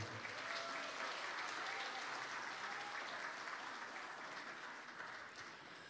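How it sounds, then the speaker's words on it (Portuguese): An audience applauds at a poetry festival jury introduction, steady sustained clapping from a crowd that fades slightly toward the end. "Para os aplausos de vocês, Adão Quevedo."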